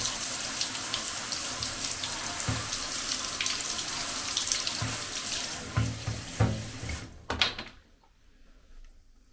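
Water pours steadily from a bathroom tap onto a Magene C606 bike computer as a loud continuous hiss with splashes and light knocks, then the flow stops near the end, leaving faint drips.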